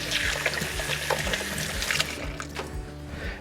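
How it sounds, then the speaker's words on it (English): Tap water runs and splashes over hands being rinsed in a home kitchen, a steady, fairly close pouring and trickling sound with no voices. "So I'm going to rinse my hands off again."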